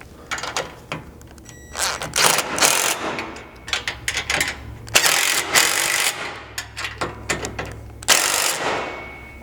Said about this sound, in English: you can go ahead and tighten these up, now using a 17mm socket on the top side, still a 15 underneath